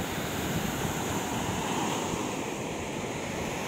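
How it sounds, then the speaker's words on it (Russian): Sea surf churns and washes continuously onto a beach of pale, fine sand, a steady broad rush with some wind noise and no voices. "Вот такое море сегодня."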